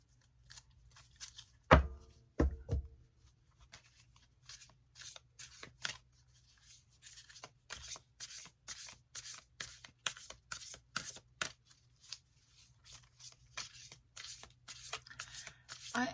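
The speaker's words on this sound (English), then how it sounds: "Let me see how they riffle shuffle." Cards are shuffled close up with soft riffling flutters and quick papery snaps, quiet and irregular, with a couple of louder taps near the start.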